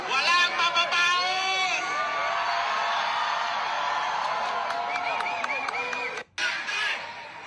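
A large crowd at a political rally chants the name of Tatay Digong, a loud and steady mass of voices with rhythmic shouts and cheering, broken by a brief drop near the end.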